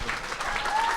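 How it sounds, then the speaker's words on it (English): A horror convention audience claps after a Dee Wallace Q&A panel at OKC Horror Con, a brief burst of dense, steady applause from the crowd. "Y'all give her a round of applause."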